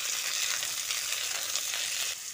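Yardlong beans and potatoes stir-frying in a pan give a steady, close hiss of sizzling oil with faint scraping stirs, continuous throughout and no voices.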